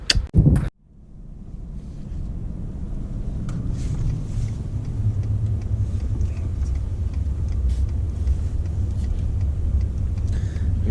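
A vehicle on a slow drive around a block during a New York deer hunt: a steady low engine and road rumble with gusty wind noise. A few sharp knocks come right at the start, and no one talks.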